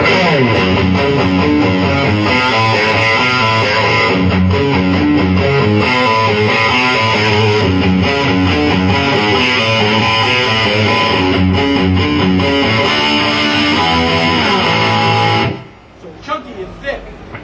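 A Line6 guitar amp modelling a Mesa Dual Rectifier plays heavy metal, with loud, thick, distorted chords and riffs sustained for about fifteen seconds before stopping abruptly, followed by faint handling noise.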